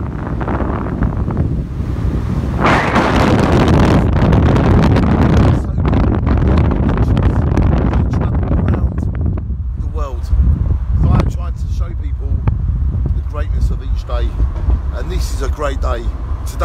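Open-top roofless car driving along, with heavy wind buffeting the microphone throughout and a person talking over the roar.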